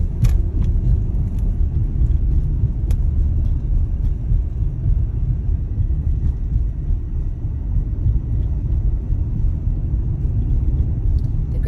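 A car on a real-time drive gives a continuous low engine and road rumble from inside the cabin, steady and close, with faint wind noise and no talking.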